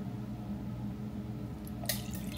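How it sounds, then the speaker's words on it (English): Orange aperitif poured into a cup with ice, a soft trickling pour under a low steady hum, with a brief brighter clink and splash near the end. "I literally just pour this into the cup."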